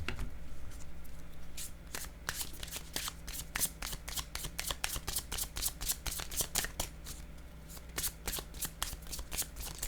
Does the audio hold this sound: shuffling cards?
yes